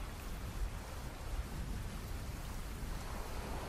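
Heavy rain pours steadily with a deep rumble of thunder rolling underneath, loud and continuous.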